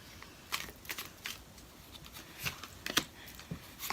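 Tarot cards being shuffled at close range in a quiet room during an Aries love reading, heard as several short papery riffles and flicks scattered through the moment with no talking.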